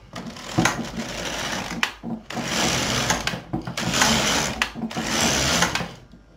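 LK 150 knitting machine carriage sliding back and forth across the needle bed, four loud whirring passes separated by brief pauses, close and alone.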